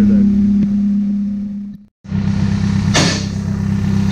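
Car engine idling steadily after its exhaust was welded up, a loud continuous low hum that cuts out briefly, then resumes with a short rising rev.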